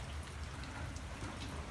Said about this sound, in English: This is the heaviest it's rained today.